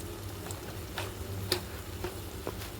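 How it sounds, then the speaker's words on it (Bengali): Noodles sizzle softly in a pan with black pepper as a utensil stirs them, scraping and tapping against the metal about every half second. "গোলমরিচ দেওয়ার পরে নেড়ে চেড়ে নিচ্ছি"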